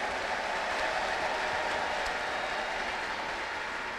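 A church congregation breaks into sustained applause for the Lord: dense, steady clapping from a large crowd at a constant level, with no pauses across the stretch.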